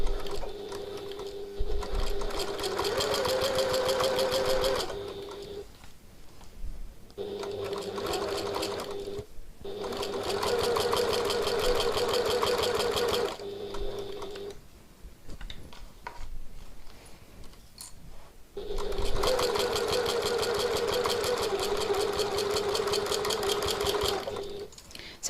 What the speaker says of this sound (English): we're just sewing all the way around